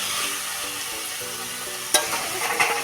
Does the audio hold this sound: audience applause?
no